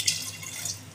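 Water pours briefly into a pot of mutton nalli nihari to make the gravy, a short close splash and trickle lasting about a second with no talk.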